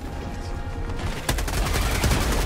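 Gunfire and a grenade blast from a co-op action video game, with a steady rattle of shots building to a sharp burst partway through, then continuing dense and loud.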